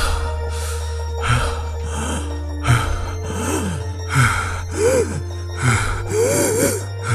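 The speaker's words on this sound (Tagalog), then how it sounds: "parang palalim yung paghinga mo" A man gasps and breathes deeply and heavily as he weakens, with repeated loud, strained breaths about once a second over a steady low hum.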